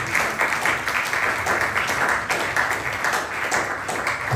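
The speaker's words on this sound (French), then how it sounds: "Acclame le Seigneur très fort." A church congregation applauds and cheers in praise at a worship service, a dense, loud, continuous wash of clapping hands filling the room with no clear single voice.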